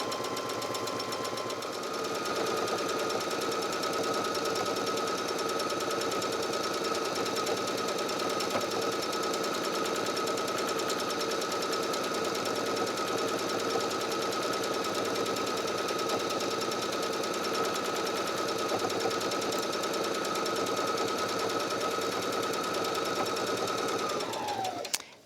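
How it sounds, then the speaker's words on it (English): A sewing machine runs steadily while top stitching around a drawstring makeup bag, a continuous close whirring stitch drone that holds nearly unbroken for about twenty-four seconds before stopping. "This time we're not turning, so we are going to sew all the way around and top stitch a little bit over our starting stitches."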